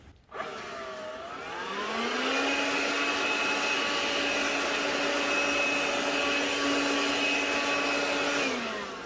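A cordless Azollin leaf blower spins up from a click into a steady, loud, high motor whine and airy rush, holds the pitch evenly for several seconds, then begins to wind down.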